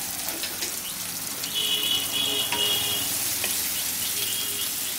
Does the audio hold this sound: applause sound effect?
no